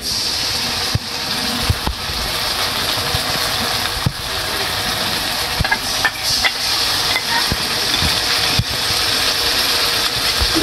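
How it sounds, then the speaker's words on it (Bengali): Onion fries lightly in a pan on a clay stove while macaroni is being prepared, a steady loud sizzling hiss broken by occasional clicks and taps from stirring. "আমি পেঁয়াজটা হালকা ভাজছি, বেশি ভাজি নাই"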